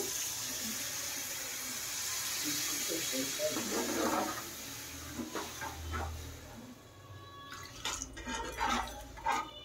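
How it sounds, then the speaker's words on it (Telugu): A glass of water pours and splashes into a pan of fried dried fish and brinjal, with scattered drips and clinks over a steady background hiss. "మెత్తలు వేగిన తర్వాత ఒక గ్లాస్ వాటర్ పోసుకోవాలి."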